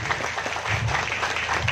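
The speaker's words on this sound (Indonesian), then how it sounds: "Tepuk tangan dulu untuk Kak Antik" Clapping from an audience at an Islamic preaching and music gathering for an aqiqah celebration, a steady, dense round of hand claps filling the whole moment with no voices over it.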